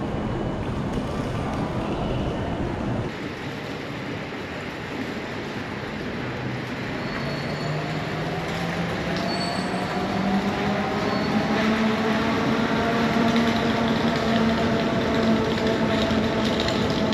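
A JNR 415 series electric train runs along the Sanyo and Kagoshima main lines near Kanmon, heard from inside as a steady loud rumble of wheels and motors, with a motor whine rising in pitch partway through.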